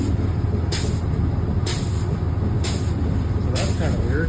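A driverless train moving backwards gives a steady, loud rumbling roar, broken by sharp hissing bursts that recur roughly every second.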